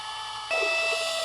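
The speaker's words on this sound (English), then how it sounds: "I have a little makeshift mixer here. It's a drill with a broken hanger on the end." A power drill fitted with a broken wire hanger stirs crabgrass herbicide into a mix, its motor whine kicking in after a short pause and running steadily and loudly to the end.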